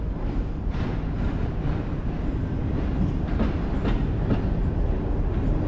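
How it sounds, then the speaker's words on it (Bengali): The Banglabandha Express rolls into a station with a steady loud rumble and rhythmic clickety-clack of wheels over rail joints, continuous and close throughout. "বাংলাবান্ধা এক্সপ্রেস ট্রেনটি কিন্তু আসতেছে"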